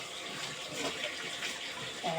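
Tap water runs steadily into a sink while a metal pot is washed, a quiet, continuous splashing flow with slight swells in intensity.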